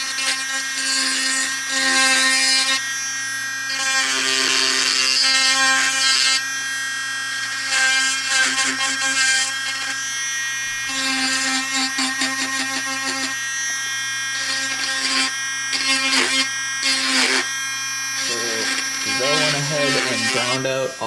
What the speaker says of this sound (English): So we've got the Dremel, and Jezail here is gonna do some dremeling.